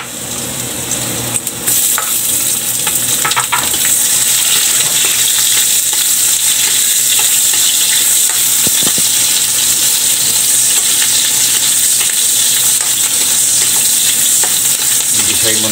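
Onions sauté in a pan for a native pork dish. A quieter start gives way to a loud, close, continuous hiss and crackle of frying, with occasional stirring clatter; no talking.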